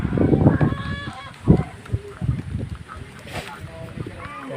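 Free-range hens and chickens clucking and squawking in bursts, some calls loud and close, others farther off, with a voice talking over the flock.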